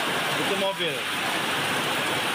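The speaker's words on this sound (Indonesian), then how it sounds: "Sedang terjadi hujan disertai kerikil dan debu vulkanik." Heavy rain mixed with volcanic gravel and ash falls during the eruption of Mount Lewotobi Laki-laki in East Nusa Tenggara, making a dense, steady hiss close by while a person briefly speaks over it.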